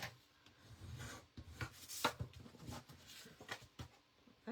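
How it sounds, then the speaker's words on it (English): A quiet rubbing and scraping as a paper card base is burnished by hand, in short uneven strokes with a couple of sharper rasps, close up. "That was quite the burnish I just laid down there."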